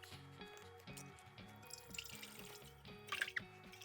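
A whole bottle of apple cider is poured out for homemade caramel and syrup, a faint, steady trickle and splash heard under soft background music.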